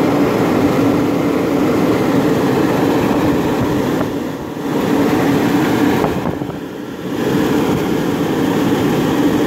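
A four-blade exhaust hood fan in a restaurant spins with a loud, steady broadband roar and whoosh, dipping briefly twice before resuming at full strength.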